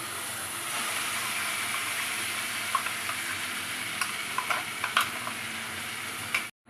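Paneer curry gravy frying in a wok, a steady close sizzle with scattered stirring scrapes and clicks toward the end before it cuts off.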